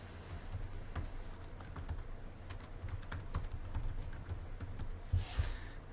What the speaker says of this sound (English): Let's type in Captain Thunderpants.